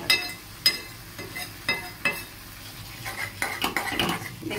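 Spice mixture with ground cumin stirred in a pan for methi paneer, a run of sharp metal utensil scrapes and taps against the pan, irregular and close, over a faint sizzle, without talk.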